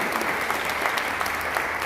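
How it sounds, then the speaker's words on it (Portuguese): Church congregation applauding together during a sermon, a steady dense wash of clapping hands that holds evenly throughout with no talk over it. "diga amém e aplauda a palavra de Deus"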